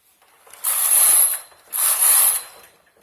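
A knitting machine carriage sweeps across the needle bed while knitting a lace (jali) pattern, making two loud, close whirring passes of about a second each, separated by a brief pause.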